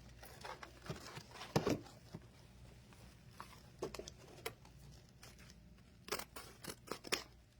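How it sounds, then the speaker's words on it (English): Sharp scissors snipping through thick velvet ribbon for a giant black and gold bow, several crisp irregular cuts and rustles, close and fairly quiet. "This is very thick velvet. See, the scissor is really good to cut."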